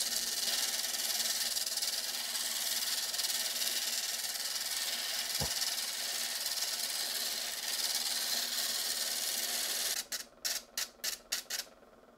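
A stone is shaped against an 80 grit diamond disc, making a steady, close grinding hiss that holds throughout, then ends in a handful of quick, sharp rubbing strokes.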